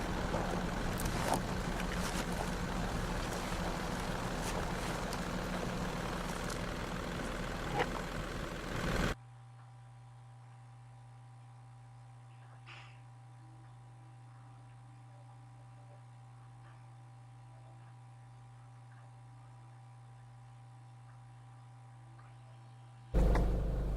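A car drives up a laneway running through the centre of a rural property, its engine a steady low drone with road rumble for the first nine seconds, then giving way to a quiet, even hum before loud noise returns briefly at the end.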